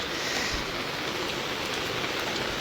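Heavy monsoon rain pouring at Mahabaleshwar, a steady, close, dense hiss of drops on surfaces that stays even throughout with no voices.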